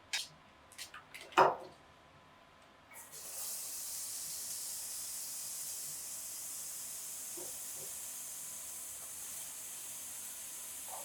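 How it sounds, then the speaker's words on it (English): Chopped onion, celery and carrot hit hot oil in a soup pot and settle into a steady, even sizzle after a few light knocks. "once our oil heats up, we're gonna add our onion, celery, and carrot all together"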